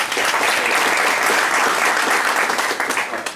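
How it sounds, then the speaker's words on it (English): Meeting attendees give Lee a round of applause, dense continuous clapping from a room full of people, even and fairly loud throughout before tapering at the close. "Let's give Lee a round of applause,"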